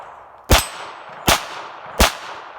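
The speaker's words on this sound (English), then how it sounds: "I'm shooting bulk ammo" Three sharp gunshots from a Smith & Wesson 422 .22 pistol firing cheap Blazer bulk ammo, evenly spaced about three-quarters of a second apart, loud and close with quick ringing decay.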